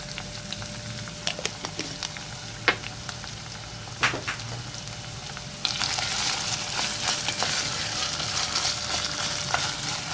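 Tomato paste frying in a pan with black pepper and red pepper flakes, giving a steady close sizzle broken by a few spoon scrapes and taps, then swelling into a louder, brighter crackling fry halfway through.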